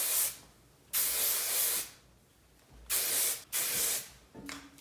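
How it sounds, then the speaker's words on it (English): Hairspray (Joico Power Spray, a buildable hold) hisses from an aerosol can in four bursts, the first two longer and the last two short and close together, with a faint handling clatter at the end. "I'm gonna spray it with just a tiny bit of hairspray"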